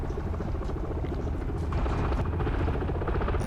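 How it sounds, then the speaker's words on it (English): A helicopter sets down in the military video game Arma 3, a steady dense rotor rumble and whine filling the scene at close range without pause. "The chopper's landed."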